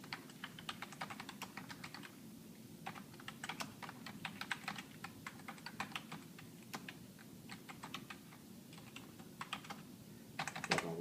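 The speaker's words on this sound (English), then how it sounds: "And we'll type in a description." Computer keyboard typing out a short description, with steady, close, rapid key clicks running throughout with brief pauses, alone and without voices.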